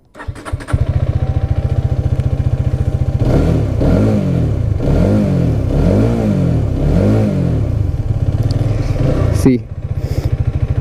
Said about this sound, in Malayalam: അപ്പോൾ എക്സോസിനോട്ടൊന്ന് ജസ്റ്റ് കേട്ട് നോക്കിക്കോ.